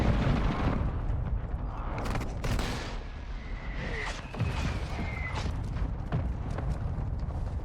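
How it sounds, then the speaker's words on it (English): Call of Duty: Modern Warfare 2 multiplayer battle, with mortar strike explosions amid dense, continuous gunfire and heavy booms that roll on without a break. "Hostile mortar strike near your position."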